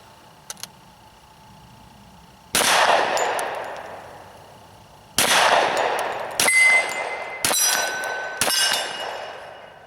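A Beretta Cx4 carbine in .45 ACP fired outdoors, five sharp shots spaced unevenly, the last three in quicker succession, each followed by a decaying ring and clink of ejected brass.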